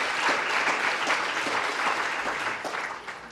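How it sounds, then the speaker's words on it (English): Audience applause for the panelists at a health-equity research event, a steady, dense clapping that holds for about three seconds and then eases off slightly at the end. "So I want to applaud our panelists"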